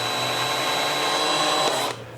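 Ozito cordless drill run slowly in reverse to open its chuck, a steady close motor whir with a high whine that stops abruptly near the end, leaving only a faint hum.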